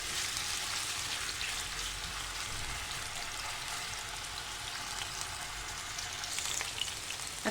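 Escalopes sizzle steadily in hot oil in a pan, a dense continuous crackle and hiss heard close up, with no talking over it.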